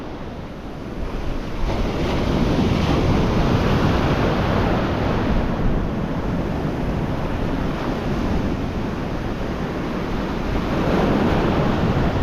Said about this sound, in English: there's a couple of little waves going on.